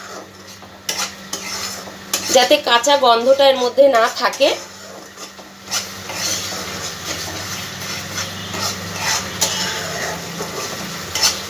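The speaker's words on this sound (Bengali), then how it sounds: "খুব ভালো করে সবগুলো একটু ভাজা ভাজা করে নেবো মশলাটাকে" Spice masala with cashew paste fries in a pan, a steady sizzle with scraping stirs and utensil clinks, while someone talks over part of it.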